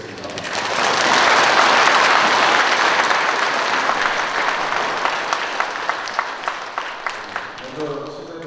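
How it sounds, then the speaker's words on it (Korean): Sustained applause from a church congregation at a Catholic Mass celebration honoring the parish priest's anniversary, building to a dense, loud roar and then thinning into distinct claps toward the end as a voice begins speaking. "주임 신부님을 큰 박수로 모시겠습니다."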